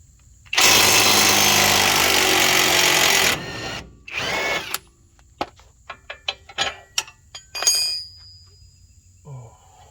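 A hand wrench or power tool working a bolt on the rear knuckle of a 2006 Ford Explorer: a loud, continuous three-second whir, then a shorter burst and a string of sharp clicks and taps close by.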